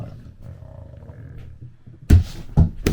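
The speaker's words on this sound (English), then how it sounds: "Knocked the camera. Knocked everything." A dog jumps off a couch indoors and knocks into the camera, making a few loud, close thumps and bangs after a quiet stretch of faint low background hum.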